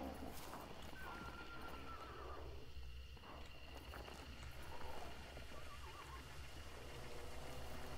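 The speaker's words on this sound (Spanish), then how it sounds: "alguien ha pasado por ahí porque hay un caballo relinchando" A horse neighs in the video game Hunt: Showdown, with two faint whinnies and some hoof clip-clop set back in steady, dense outdoor game ambience.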